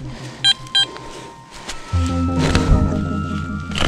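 Metal detector giving two short high beeps, then a steady sustained tonal signal over the detector's low hum outdoors, loud and clear.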